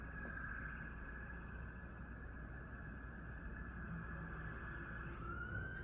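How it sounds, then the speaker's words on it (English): An emergency vehicle siren wails outside, holding a loud steady tone for several seconds before its pitch starts to climb at the end, over a low traffic rumble. "those frickin' sirens"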